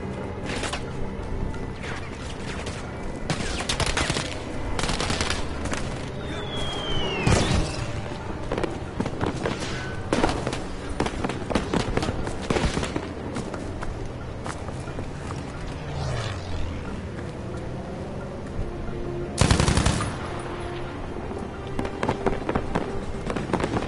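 Rapid gunfire and explosive bursts from the Battlefield 5 video game, dense and loud throughout with sharp cracks and a few heavier booms, no talk.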